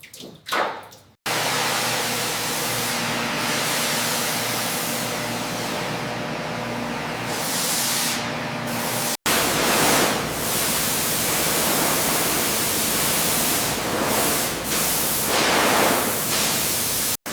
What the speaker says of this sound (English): Make sure to rinse all the dirt from the dashboard.